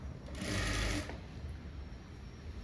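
Sewing machine stitching a blouse back neck: a short, loud whirring burst of rapid stitching up close, then the motor stops and only quiet room hum remains.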